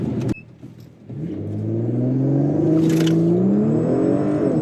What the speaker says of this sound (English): It sounded like a kazoo noise.